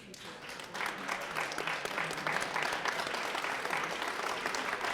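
Steady audience clapping at a mixed doubles curling semifinal as teams come off the ice, a continuous moderate patter of many hands heard from a distance in the arena.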